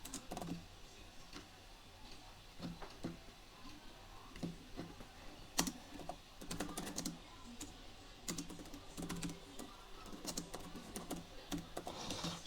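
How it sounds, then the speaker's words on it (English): Quiet computer keyboard typing in an indoor setting: scattered soft key clicks arrive in short irregular bursts with pauses, faint against a low room hiss. "Let me type one more time."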